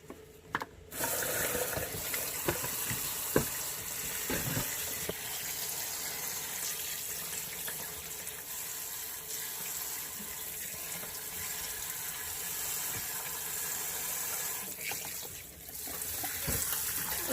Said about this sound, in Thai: ก็จะล้างประมาณสามน้ำนะคะ